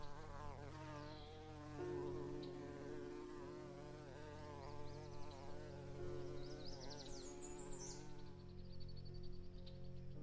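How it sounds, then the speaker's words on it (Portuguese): A wasp in flight gives a steady buzzing drone with wavering pitch, continuous and fairly quiet, heard alone without voices. "Essa aqui é a vespa, uma máquina de precisão voadora"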